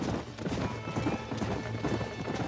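Horses gallop and neigh in the Western video game Red Dead Redemption, with a dense, continuous patter of hooves under a steady rumble of background noise, lasting a couple of seconds.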